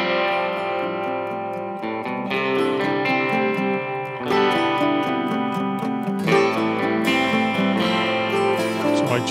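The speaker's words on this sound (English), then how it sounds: "later on I recorded some acoustic guitar as well, just to double the parts of the electric guitar" Acoustic guitar doubling an electric guitar part in a studio mix, strummed chords layered with a sustained electric tone in a steady rhythm, full and close with no talking.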